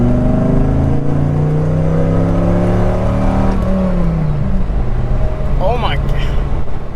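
A 1997 Dodge Viper GTS engine pulls hard in third gear, a loud rising roar with climbing harmonics that swells steadily for several seconds before easing off as revs settle.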